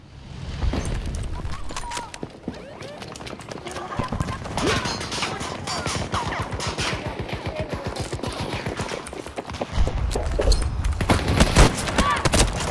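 Sustained gunfire in the Battlefield video game, with long runs of rapid automatic fire and scattered louder shots that build toward a dense, heavy burst at the end, with excited voices talking over it.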